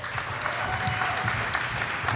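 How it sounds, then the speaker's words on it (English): Audience applause at an event, a brief steady wash of many hands clapping, fairly quiet and even throughout. "So please, let's give a round of applause for this very hard work."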